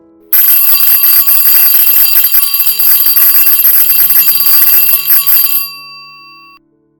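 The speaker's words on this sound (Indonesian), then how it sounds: "Suara bel tanda sekolah berakhir" A loud electric school bell rings continuously for about five seconds, bright and metallic, then cuts off, leaving a short fading ring.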